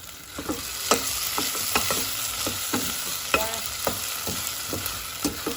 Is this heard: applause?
no